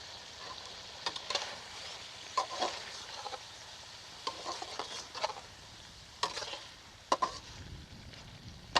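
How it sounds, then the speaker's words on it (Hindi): White chicken karahi fries with ground white pepper while being stirred, a soft steady sizzle broken by sharp spoon scrapes and clinks against the pan at irregular intervals. "एक मिनट के लिए इसे भून लेंगे।"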